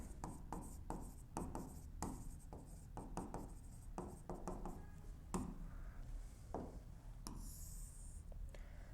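A pen scratches across paper during an accounting lesson on share issue entries, a steady run of short strokes and scribbles, fairly close and continuous, with no talk over it.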